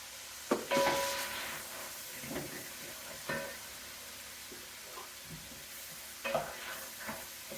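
Tomato cooks in a pan with a soft sizzle while a utensil stirs and scrapes it in several scattered strokes, some louder bursts among quieter simmering.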